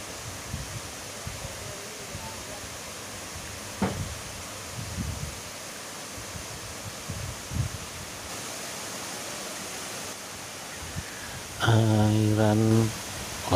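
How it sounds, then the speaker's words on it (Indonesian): Strong rushing water from a waterfall at Watu Lumpang in Mojokerto, near a wooden bridge, forms a steady broadband roar throughout, with a few brief knocks and a short tonal burst near the end. "Tapi airnya deras di sini kawan."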